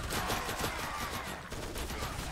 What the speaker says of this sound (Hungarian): a V az egyfolytában ilyen gyors lövés, egymás után sok damage-ettől